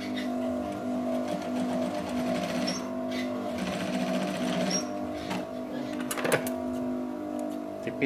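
A sewing machine stitches brocade lace kebaya fabric, whirring steadily and close up without a break, while someone talks over the hum throughout.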